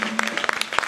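Church congregation clapping during a Sunday service, a brief burst of scattered handclaps mixed with voices.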